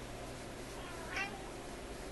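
A single short cat meow sounds faintly against a quiet, steady background hum.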